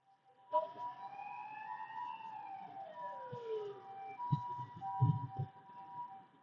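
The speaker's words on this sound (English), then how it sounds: "we have a ambulance coming" A wailing ambulance siren rises and falls as it passes at moderate distance on a street in Osaka, with traffic noise and a few thumps underneath.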